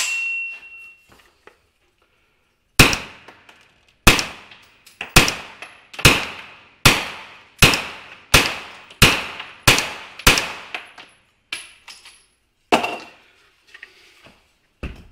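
A Ruger PC Carbine fires about a dozen sharp, loud shots at an uneven, fairly quick pace, each with a short ringing decay, after a quiet start with no talk.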